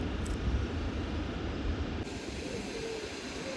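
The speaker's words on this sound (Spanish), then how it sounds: "Y continuamos, nuevo tren mercante" A Spanish RENFE freight train rumbles past steadily, a continuous low rolling drone of wagons at moderate distance, without any talking.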